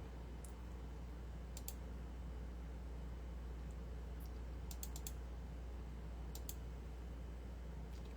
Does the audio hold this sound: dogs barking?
no